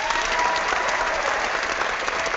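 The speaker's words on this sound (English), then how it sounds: "Can we get some applause for him?" Applause for Trey Gowdy from a live show audience, a thick, steady burst of many hands clapping that stays level and continuous from start to finish, without speech.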